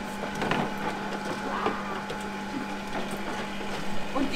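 Egg sorting machine stamping and sorting eggs, a steady mechanical clatter of light repeated taps and rattles over a constant machine hum, with no talk.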